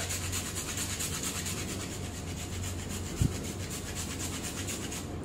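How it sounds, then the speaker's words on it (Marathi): Whole nutmeg is rasped against a grater in fast, even back-and-forth strokes for rava besan barfi, giving a steady close scratching rhythm with one brief knock partway through. "आता आपल्याला जायफळ किसून घ्यायचं आहे"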